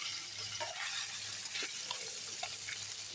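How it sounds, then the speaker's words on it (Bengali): Small river fish fry in a pan with a soft, continuous sizzle, while occasional faint clicks and splashes rise above the low, steady crackle. "এক পাশ ভাজা হোক, তারপরে আবার দেখো মাছ সুন্দর এক পাশ ভাজা হয়ে গেছে"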